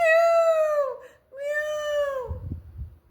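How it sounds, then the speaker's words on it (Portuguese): A cat gives two long, clear meows, close and loud, the second trailing off into a brief low rumble of handling noise. "o gato"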